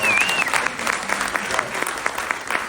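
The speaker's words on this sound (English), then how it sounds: "Big round of applause." Audience applause fills a summit hall, a steady dense clatter of many hands clapping at close range, with a faint voice briefly cutting through at the start.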